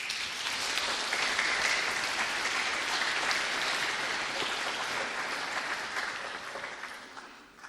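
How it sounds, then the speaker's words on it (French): A crowd applauds students of Cato Vives at an Armistice Day commemoration, a dense, steady wash of many hands clapping that carries on for several seconds and tapers slightly at the end. "Je demande d'applaudir chaleureusement les étudiants de Cato Vives"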